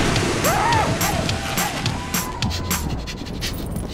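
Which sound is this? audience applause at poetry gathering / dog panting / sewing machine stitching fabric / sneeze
dog panting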